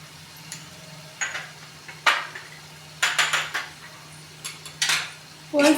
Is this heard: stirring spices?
yes